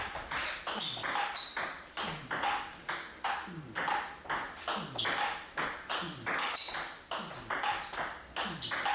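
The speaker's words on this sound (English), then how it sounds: "You can hear me making a table tennis noise when I hit the ball" Crisp table tennis ball hits, soft blocks from a couple of metres behind the table, repeat in a steady rally rhythm, roughly two per second, close and clear.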